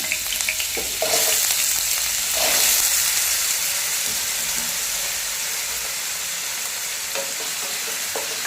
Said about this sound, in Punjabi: ਤੇਲ ਗਰਮ ਹੋ ਗਿਆ ਇਹਦੇ ਵਿੱਚ ਆਪਾਂ ਆਲੂ ਪਾ ਲੈਣੇ ਆ